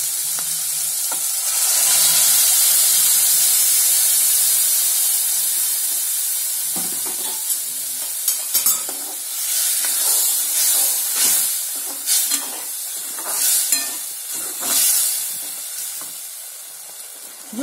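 Lentils for Gujarati lachki dal hit a hot pan and sizzle loudly, a close, hissing fry with bursts of crackle and steam that rise and fade in waves as the mixture is stirred.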